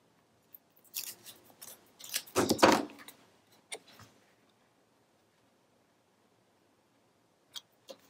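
Scissors snip through paper for a scrapbook mini album, a quick cluster of close, crisp cuts followed by a few isolated clicks, then quiet.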